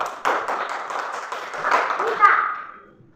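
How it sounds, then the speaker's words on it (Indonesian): Schoolchildren in a classroom clapping for a classmate, a scattered burst of hand claps that thins and fades over about three seconds, with children's voices mixed in. "baru tepuk tangan untuk Petrus"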